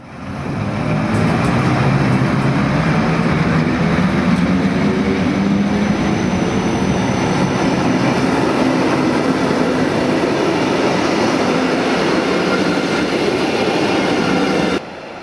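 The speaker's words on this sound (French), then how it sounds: "Nous laissons partir notre train international pour Vienne." An international train to Vienna rumbles steadily past at close range as it departs a station, a loud continuous roar of wheels and engine that stays strong throughout, then cuts off abruptly at the end.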